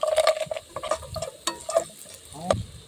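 Cashew nuts fry in a pan for Kerala-style rava uppumavu, with light sizzling broken by quick scraping, clicking stirs of a spoon against the pan.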